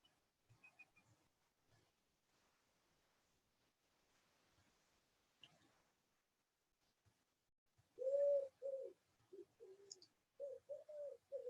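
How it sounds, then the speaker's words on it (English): Faint distant sounds give way to soft, repeated cooing bird calls in short phrases, fairly close and calm against a quiet background. "Noticing sounds, perhaps of the bird song."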